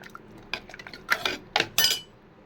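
Cooked brinjal and potato mashed in a metal pot, giving a run of scraping, clinking knocks of a utensil against the pot that grow louder toward the end, close and alone.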